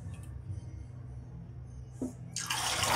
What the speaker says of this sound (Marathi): परत एकदा डीप फ्राय करूया.